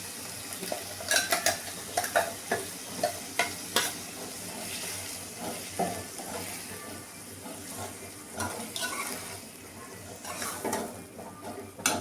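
Potato milk curry being stirred in a pot, with intermittent scraping and clinking of a spoon against the pan over a soft background sizzle, no voices.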